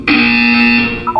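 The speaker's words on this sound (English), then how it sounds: "You will hear a buzzer." A loud, steady electronic buzzer in Portal 2 sounds once for about a second, harsh and tonal, then cuts off with a short blip after it.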